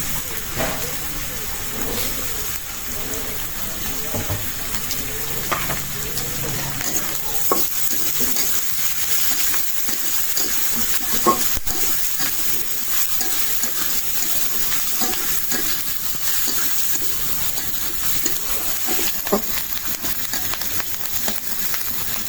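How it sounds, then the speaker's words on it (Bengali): Steady sizzling and crackling of garlic, onion and green chili frying in a pan, with occasional stirring scrapes, continuous and fairly close throughout. "রসুন, পেঁয়াজ, মরিচ তো ভাজা ভাজা করে নিলাম।"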